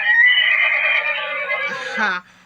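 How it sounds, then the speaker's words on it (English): One clear horse whinny from an electric flash card toy, shrill and wavering, rises and then trails off over about two seconds, heard close and alone. "it also give the sound that the living thing make. Like this is horse."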